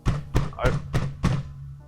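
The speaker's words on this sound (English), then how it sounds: "she began to bang on the glass box" A fist bangs on a glass box in five heavy, evenly spaced thumps, close and loud, each blow landing with a dull resonant knock.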